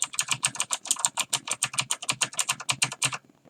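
Rapid, crisp clicking keystrokes typed in a steady stream on a mechanical keyboard with blue switches, close and fairly quiet, ending with a brief pause.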